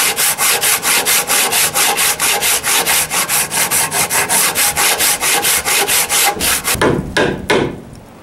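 A Japanese hand saw cuts freehand through wood in a steady run of about thirty rhythmic push-pull strokes, loud and close, before slowing and stopping near the end.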